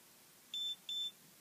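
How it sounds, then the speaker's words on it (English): A Tachon Ops HD helmet camera emits two short, identical high-pitched electronic beeps in quick succession as it powers off, close and clear over a quiet background. "You hold the power button until it starts beeping"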